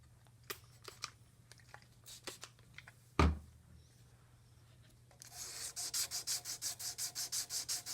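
Rusty Corona garden pruners are rubbed on a 400 grit stone, first in scattered faint scrapes and a single sharp knock, then in a steady rhythmic series of close, gritty back-and-forth strokes.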